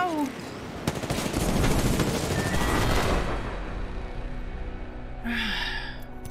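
Rapid automatic gunfire rattles in Apex Legends, dense bursts crowding the first half before fading into quieter in-game ambience, with a brief electronic tone near the end.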